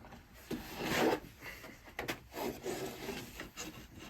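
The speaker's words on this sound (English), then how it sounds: "now I'll just go over to CBN to do the finish sharpening" A CBN wheel does the finish sharpening on a steel woodturning roughing gouge held in a handmade wooden jig, making close, uneven rasping strokes that swell and fade over a few seconds.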